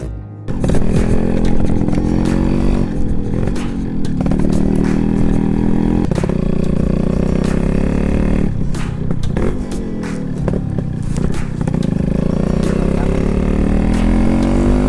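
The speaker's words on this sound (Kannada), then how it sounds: "ನಾನೀಗ ಗಾಡಿ ಹೇಗಿದೆ ಅಂತ ಓಡಿಸಿ ತೋರಿಸ್ತೀನಿ" Yamaha RX-135 motorcycle being ridden, its engine loud and close, rising and falling steadily as the rider revs through gears, with wind and road rattle underneath.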